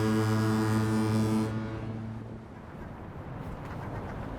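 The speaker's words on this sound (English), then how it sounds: "Right here is one of our foghorns." A deep, loud foghorn blast from the Golden Gate Bridge with a rich droning tone that cuts off after about a second and a half, leaving wind and water noise.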